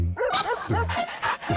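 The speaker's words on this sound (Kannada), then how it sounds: "ನನ್ನ ಖಜಾನೆ ಹುಡುಕೊಡೋ ಡಾಗ್, ಬಾ ಬಾ ಬಾ" A cartoon sniffer dog in a Motu Patlu episode lets out a rapid series of bright, yappy barks, four or five in quick succession, loud and close.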